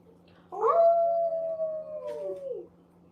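Puppy howling: a single drawn-out, clear howl held for about two seconds, rising slightly and then sliding down at the end, close by against a faint steady hum.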